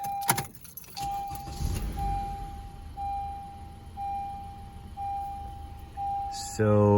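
Keys jingle, then a steady chime pings at regular intervals inside a 2015 Honda Accord Sport with a new battery before the engine cranks and catches near the end, under some talking.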